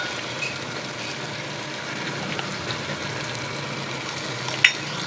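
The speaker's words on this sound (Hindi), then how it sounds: "इसको मिक्स कर लेंगे अच्छी तरह से।" Homemade biryani masala is stirred into tomatoes in a frying pan, giving a steady, close sizzle with soft scraping from the spoon and no talk.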